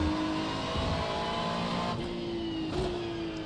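A GT3 race car in iRacing at Spa drones steadily, its engine note holding and then climbing through a gear change, loud and continuous with no talk over it.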